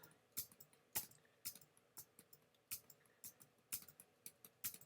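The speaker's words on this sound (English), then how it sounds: "that tappy noise that you keep hearing all the time, it's me holding down the keyboard, taking a sample" Computer keyboard taps and a pen on a graphics tablet during close-up photo editing, irregular crisp clicks arriving in quick clusters with short pauses between them, close and quiet.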